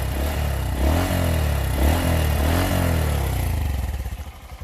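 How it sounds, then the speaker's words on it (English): A Honda Monkey 125 motorcycle with its stock exhaust revs up and down in close, loud swells, then settles into a fading, chugging idle. "this is a stock exhaust, and this is me talking while it's revving."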